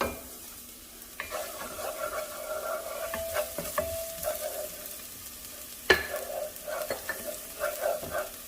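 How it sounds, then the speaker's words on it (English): Finely chopped shallot sizzles softly in a pot preheated over medium to medium-high heat for broccoli cheddar soup, with scattered scrapes and knocks of stirring over a steady faint frying hiss. "Here I have a pot preheating over a medium to medium-high heat, and to that I'm going to add my chopped shallot."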